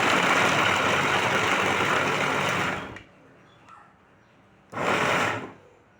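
Electric mixer grinder blending onion, garlic, green chillies and curry leaves in a kitchen, a loud steady whir for about three seconds, then stopping, followed by a second short burst.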